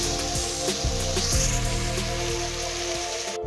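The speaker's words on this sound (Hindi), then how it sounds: "अभी हम इसके अंदर लहसुन अदरक का पेस्ट ऐड करेंगे और 2 मिनट के लिए इसको फ्राई करेंगे" Garlic-ginger paste fries with golden onions in a pan, a loud, dense continuous sizzle like heavy rain, close and steady, cut off sharply at the end.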